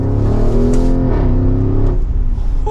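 A 2023 Porsche Cayenne Turbo engine revs up loudly nearby in manual mode, pitch climbing then dropping back, a single strong throttle blip with no voices.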